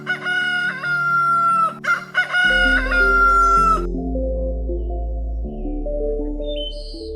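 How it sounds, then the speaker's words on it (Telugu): A cartoon rooster perched on a rock crows loudly in a long drawn-out call, and bright background music then continues alone. "కోడి ఒక రాయి పైకి ఎక్కి కుయ్యడం మొదలుపెట్టింది"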